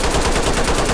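Kalashnikov rifle fired in the game Ready or Not, a loud, close burst of rapid automatic shots in a tight even rhythm.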